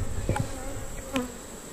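Honey bees buzz steadily around a hive being relocated, a close, continuous drone with a few louder passes near the listener.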